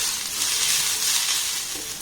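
Raw potatoes sizzle in a hot covered pan without water, a close, continuous crackling hiss with no voices.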